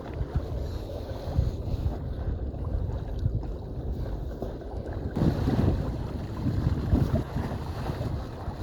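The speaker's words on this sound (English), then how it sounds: "Got a nice little wind tunnel coming through the gap, Bubby." Wind rushing past while sailing a canoe: continuous low, rumbling wind buffeting the microphone with a steady hiss, rising in strength partway through, loud and close, mixed with faint water wash and no talking.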